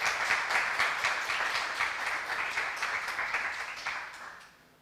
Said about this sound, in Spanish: Nuevamente le damos un fuerte aplauso